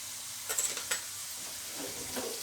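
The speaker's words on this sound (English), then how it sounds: "And let it cook on the simmer till our tempering is ready." Spinach and mustard greens cooking in a pan for sarson ka saag, a quiet low bubbling sizzle with a couple of brief scrapes of a utensil near the start.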